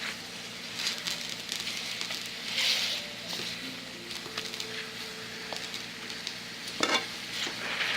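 Pork chops sizzling in a frying pan, a soft, continuous hiss and crackle with occasional pops and one sharper spit toward the end, close by and without talk.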